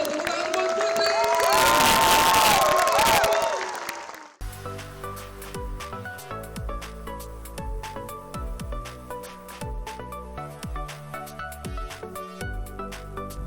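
A studio audience applauds and cheers loudly for about four seconds, then the crowd noise cuts off abruptly and music takes over for the rest.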